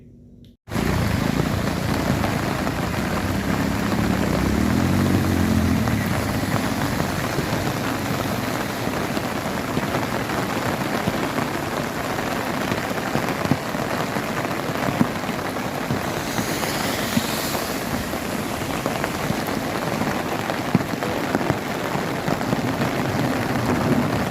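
Heavy rain pours down steadily in the town of Badi Sadri near Chittorgarh, a dense, continuous hiss of drops hitting surfaces that stays loud throughout with no voices.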